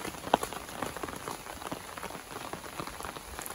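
Heavy rain pours down in a village location near a waterfall, a dense, steady patter of drops striking surfaces throughout, close and continuous with scattered louder splats.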